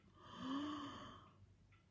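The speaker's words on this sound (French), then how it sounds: "Un grand bâillement" A single long, drawn-out yawn with a rising then falling breathy voiced tone, fairly quiet and close, heard alone during a relaxation exercise.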